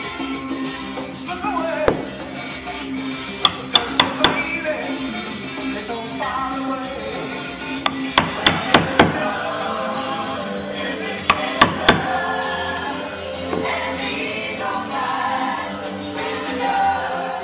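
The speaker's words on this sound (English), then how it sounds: "Those acute angles are tough with a chisel." Sharp knocks of a chisel cutting acute angles in wood for a game table, arriving in small clusters of three to five strikes against a steady background of music.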